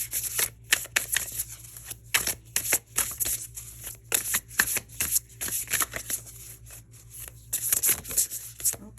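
Tarot cards are shuffled close up in a quiet room, a rapid run of crisp riffling and rubbing bursts in irregular rhythm, with no talking.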